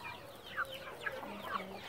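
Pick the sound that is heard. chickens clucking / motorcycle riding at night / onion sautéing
chickens clucking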